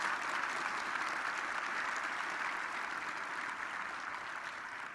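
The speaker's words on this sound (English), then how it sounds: "thank you for that applause" An audience applauds in a conference room, dense steady clapping that holds evenly and tapers slightly toward the end.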